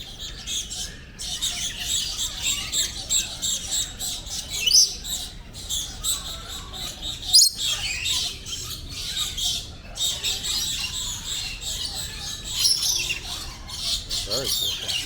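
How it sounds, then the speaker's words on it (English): Parrots and lorikeets at a bird park in Kuala Lumpur squawk and chirp in a busy, continuous chorus, with sharp bright calls popping out over a steady background of chatter. "this is the parrot section and lorikeet"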